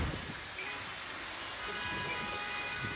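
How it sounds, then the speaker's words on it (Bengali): Heavy monsoon downpour in Dhaka, a steady, dense hiss of rain pouring onto streets and surfaces, continuous and loud throughout. "কি বৃষ্টি! মুষলধারে বৃষ্টি।"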